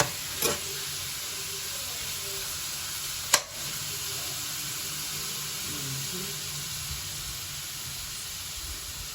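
Oil sizzles steadily in a pan as ingredients for laing are sautéed, a soft continuous frying hiss at moderate distance, broken by two brief sharp clicks or taps of a utensil.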